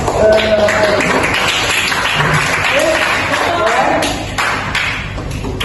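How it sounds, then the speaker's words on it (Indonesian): A classroom audience applauds students' zombie shooting game project: a steady patter of clapping from a group, loud and close, with voices talking over it and the applause tapering off toward the end. "Tepuk tangan untuk"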